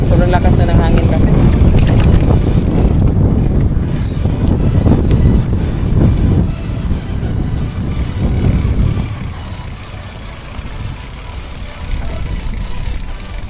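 Strong wind buffets and roars across the microphone, loud and continuous, easing slightly toward the end.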